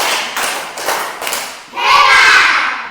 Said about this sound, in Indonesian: Tepuk hebat buat kelompok kuning.